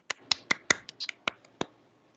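Several sharp, separate hand claps from students in a classroom maths lesson, spaced irregularly and quiet, with no talk over them.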